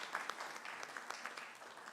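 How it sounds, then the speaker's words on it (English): Audience applause at a main plenary conference session, a dense patter of many hands clapping, fairly faint and distant, steady for its short length. "Let's give them another round of applause."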